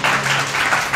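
Audience clapping hands together at a Hindu religious gathering during a Bhagavat saptaha kirtan session, a steady dense applause from many people lasting about a second.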